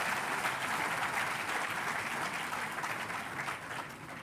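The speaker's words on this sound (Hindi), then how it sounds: "एक बार जोरदार तालियां प्रदीप बाल्यान जी के लिए भी।" Loud, sustained applause fills an auditorium at an education summit, a steady wash of many clapping hands for about four seconds with no speech over it.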